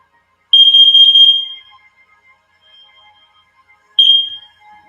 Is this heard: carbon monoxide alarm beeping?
yes